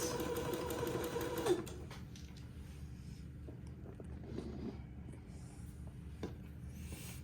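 A sewing machine zigzagging lace onto a fabric panel runs in a steady whirring burst, then stops, leaving soft handling rustles and small taps of fabric being moved; close and quiet, no talk.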